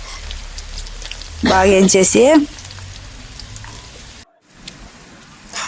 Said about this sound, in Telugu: ఈ ఎర్రగడ్డలు సై అంటే నాకు భలే ఇష్టం దోస్తులు